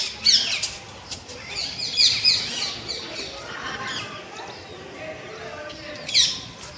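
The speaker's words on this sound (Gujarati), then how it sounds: "બહુ પોપટ બોલ બોલ કરું છે" Many parrots chirp and squawk in bright, overlapping bursts, a busy chorus near and far in trees by a village pond against steady outdoor background noise.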